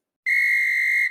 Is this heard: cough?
no